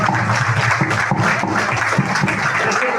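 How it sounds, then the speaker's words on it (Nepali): Guests at a wedding ceremony clap together in a brief burst of applause, a close, dense patter of hands that carries steadily throughout. "हामी ताली बजाइदिउँ न"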